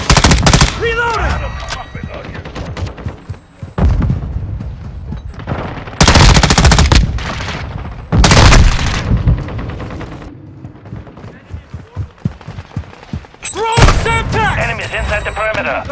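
Heavy automatic gunfire and loud bursts in Call of Duty Modern Warfare 2, with sustained rattling fire broken by sharp explosive blasts, mixed with radio-style soldier voices shouting between volleys.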